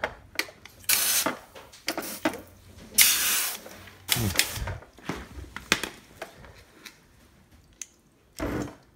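A Speedclean CJ-200E portable coil jet cleaner fed from a garden hose, bursts of hissing spray that start and stop in irregular pulses, some long and some short, loud and close.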